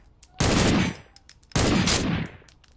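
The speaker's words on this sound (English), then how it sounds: "You watch when you fire it, you know, it has a nice kick to it" An EBR rifle fires in a video game in two loud, close, sustained bursts about a second long each, separated by a brief quiet gap.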